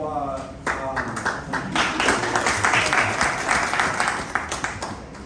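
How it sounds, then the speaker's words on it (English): Audience applause greets a speaker's introduction at a data governance talk, a steady mid-level clapping that swells after a brief start and carries on for several seconds, with faint voices mixed in. "applause for the intro or for what I'm about to deliver"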